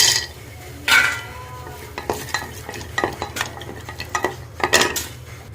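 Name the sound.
nuts frying in ghee in a pot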